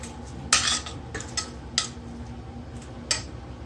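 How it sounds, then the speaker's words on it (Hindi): A spoon stirring rice and milk kheer in a steel pot, with several sharp metallic scrapes and clinks spaced irregularly against a quiet kitchen background. "चमचा चलाते रहेंगे कि नीचे से लग ना जाए"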